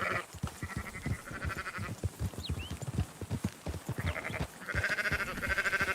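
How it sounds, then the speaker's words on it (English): Sheep bleat repeatedly in Red Dead Redemption 2, several overlapping calls rising over the steady clip-clop of horse hooves, with a brief voice speaking. "Marston, why don't you leave the sheep to me?"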